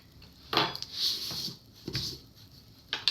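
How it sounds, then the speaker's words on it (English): Peanut butter jar being opened at a kitchen counter, a few soft plastic twists, clicks and handling knocks, close and fairly quiet with pauses between them. "open your peanut butter"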